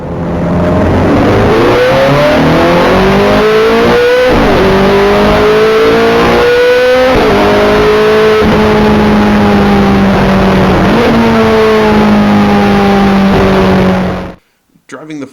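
A Ferrari 430 Scuderia's high-revving engine climbs repeatedly through short gears, its loud, rising note dropping at each shift before climbing again, close and continuous for about fourteen seconds before cutting off.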